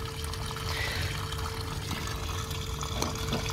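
Water drains from the fresh water system of a 2018 Burstner Lyseo IT744 Harmony Line motorhome, a steady close splashing and gurgling flow running unbroken with a faint hum underneath.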